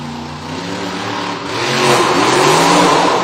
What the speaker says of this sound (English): Let's get on the high seas with the Black Pearl and Chad Tingler behind the wheel.